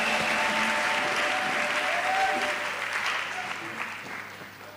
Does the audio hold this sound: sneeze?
no